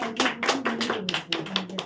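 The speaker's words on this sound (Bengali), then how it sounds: "তোর জন্য একটা জোরে হাততালি" Applause from the audience at a theatre festival in Naihati, a small scattering of distinct claps in an uneven rhythm, close and fairly sparse, lasting under two seconds.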